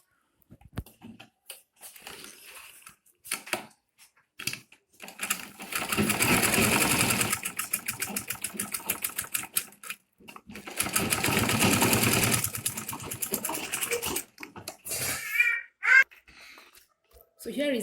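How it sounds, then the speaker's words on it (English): A sewing machine stitches the side of a handmade men's leather wallet card holder, running in two long steady bursts of rapid mechanical chatter with brief pauses, close and fairly loud, with short quieter handling noises between runs. "Bring it back to my sewing machine."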